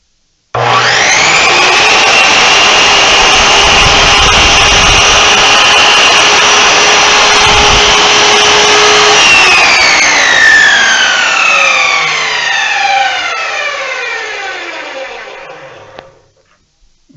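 A Chicago Electric 10-inch sliding compound miter saw spins up with a loud whine, bites through PVC a little over an inch thick, then winds down with a falling tone as the blade slows, close up.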